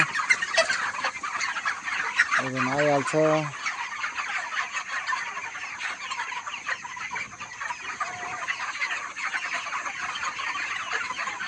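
Chickens cluck and chatter throughout in a poultry shed amid a busy background din, with a few short, louder, tonal calls near the start and someone briefly speaking.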